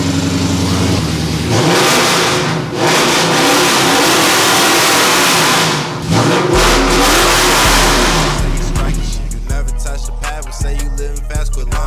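A Dodge Challenger being restored cranks and runs, its engine revving loudly several times at close range before a beat-heavy music track takes over near the end.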